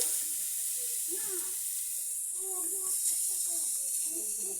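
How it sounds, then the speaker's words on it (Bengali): Onions frying in oil in a home kitchen pan after eggs were fried, a steady, moderately faint hiss of sizzling fat that runs continuously, with scattered soft pops and a voice talking over it. "এই যে পেঁয়াজ ভেজে নিচ্ছি"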